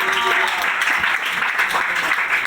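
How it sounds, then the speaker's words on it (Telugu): A church congregation clapping loudly together, a dense, sustained burst of applause close by that fills the whole moment. "గట్టిగా చప్పట్లు కొట్టండి"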